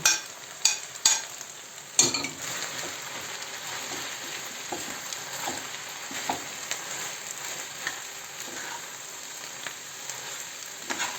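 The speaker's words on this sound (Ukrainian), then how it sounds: "І так само її підтушуємо разом з грибами і з тим, і з цибулею" Mushroom and onion filling stewing in oil in a pan gives a continuous soft sizzle, opening with a few sharp clanks of a utensil and light stirring taps throughout.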